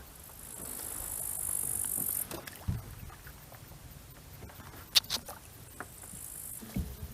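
Kayak paddle dipping into river water near reeds, with soft splashes and drips, a rustling patter early on and a few sharper knocks, quiet and close.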